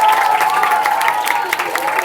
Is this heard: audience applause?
yes